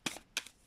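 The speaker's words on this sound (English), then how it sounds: "I'm going to shuffle 3 more times" A deck of tarot cards is shuffled by hand in two quick, crisp riffling bursts, close and soft, with no voices.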